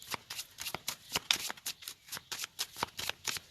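A brand-new tarot deck is shuffled by hand close up, producing a steady run of quick, crisp riffling bursts in an even rhythm, with no talking.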